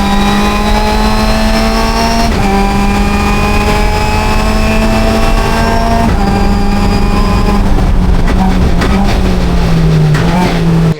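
Onboard engine noise from a Mazda Miata ND endurance race car on track, a loud steady drone that rises in pitch through each gear, with upshifts around two and six seconds and tire noise late on.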